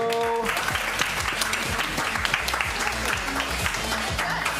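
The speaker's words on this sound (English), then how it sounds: "keep that round of applause going for Hallie, Andy, and Willow" An improv show audience applauds the players, giving a sustained, full round of clapping throughout, with a murmur of voices and brief tonal sounds underneath.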